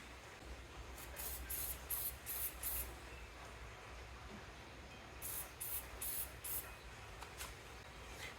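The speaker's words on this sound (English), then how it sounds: "I'm going to squirt some penetrating fluid on there." Penetrating fluid is squirted from a spray can onto rusty gearbox bolts on a Scrambler 500 2x4 ATV, two close bursts of several short, sharp hissing sprays each, separated by a quiet gap.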